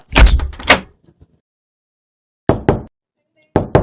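A front door being shut and latched, with a couple of heavy close thuds at first, then pairs of sharper knocks or latch clicks after a pause, in a quiet indoor room.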